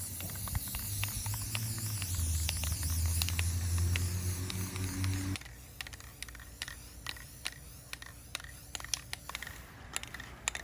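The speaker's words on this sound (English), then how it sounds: "Now I'm going to put another nice light even coat of Oasis blue on it" A spray gun lays a light coat of Oasis blue paint on a handmade Baffler puzzle, a continuous close hiss over a low motor hum for about five seconds, then silence broken by small clicks and handling taps.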